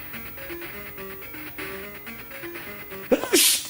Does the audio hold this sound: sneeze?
yes